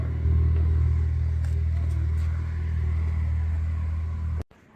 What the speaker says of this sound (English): I want you guys to hear the turbos.